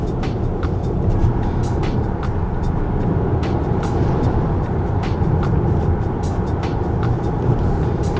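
A Kia Sorento 2.5 petrol AWD cruises on a wet highway, with constant loud road and tyre roar, splashing wet-surface hiss and steady engine drone from inside the cabin.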